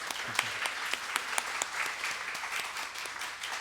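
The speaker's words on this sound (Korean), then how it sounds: "2025년 십자가 컨퍼런스로 섬겨주신 우리 목사님께 감사의 박수 드리겠습니다" A church congregation at a Sunday service gives the pastor a steady round of applause, dense overlapping claps at moderate distance, fairly quiet overall and sustained throughout.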